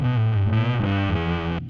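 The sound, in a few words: bass guitar with heavy reverb effect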